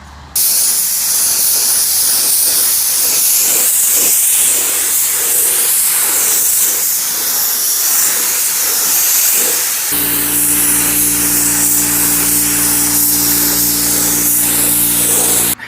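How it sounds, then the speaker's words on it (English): Steady loud aerosol clear coat spray hissing continuously for about fifteen seconds onto custom Subaru WRX tail lights, with a low tonal hum joining partway through. "then we'll spray them"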